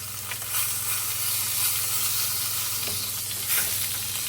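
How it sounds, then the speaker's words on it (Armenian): Fish frying in a pan, a continuous close sizzle with soft crackles and occasional stirring bursts over a low steady hum. "ձուկը տապակել եմ"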